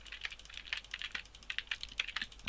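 Quick, irregular keystrokes on a computer keyboard, close and fairly quiet, clattering steadily for a couple of seconds with no voice over them.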